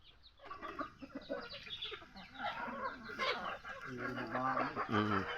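Chickens clucking while feeding on cooked rice, a busy, close flock with overlapping cackles and harsher squabbling calls building toward the end, and a person's voice briefly in the mix.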